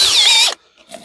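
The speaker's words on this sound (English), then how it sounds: "I'm going to use an 8mm drill bit, and that's just big enough to get the flex through the box." A power drill fitted with an 8mm bit bores through a box, a loud high whining burst for about half a second that cuts off abruptly, followed by faint rattling.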